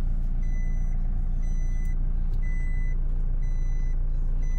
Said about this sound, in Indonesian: Oh ini saya belum pakai sabuk pengaman jadi bunyi.